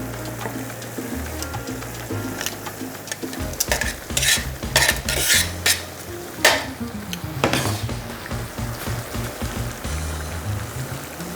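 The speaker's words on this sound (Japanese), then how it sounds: "それからこの炒めた具材を戻してあげます。" Stir-fried ingredients are stirred back into a sizzling pan of pasta paella, with close scraping and stirring strokes over a steady frying hiss, several louder clattering bursts in the middle.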